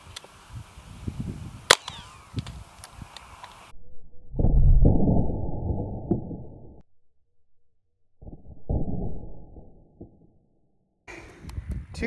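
.22 Long Rifle shots fired at a grapefruit outdoors: a sharp crack early on, then two heavy booming reports separated by silence, each ringing briefly before cutting out, with no talking.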